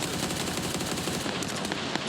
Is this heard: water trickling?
no